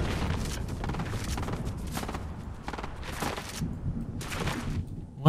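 Gunfire in the Fortnite video game, played in Zero Build ranked Reload squads: repeated muffled bursts of shots and booms roll over a steady rumbling background, with no voices.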